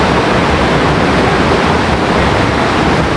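River water rushes loudly near a waterfall in Rejang, Bengkulu, a thick and constant roar close to the microphone that never eases.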